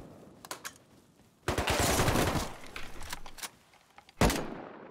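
Loud automatic gunfire in a first-person shooter game: a short burst, then a sustained dense rattle of rapid shots lasting about a second, a few scattered single shots, and a final sharp blast, all close and without talk.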